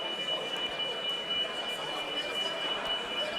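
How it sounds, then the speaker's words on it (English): A faulty fire alarm sounds continuously as a steady high electronic tone throughout, set against a noisy indoor venue background. "our fire alarms have been going off all day today"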